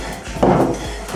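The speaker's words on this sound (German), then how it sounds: "Ich habe jetzt hier noch ein bisschen Putenbrust und die schneide ich jetzt klein." A knife cuts turkey breast into small pieces on a cutting board in a home kitchen, giving one short, moderately loud chopping thud against the wood amid quiet room background.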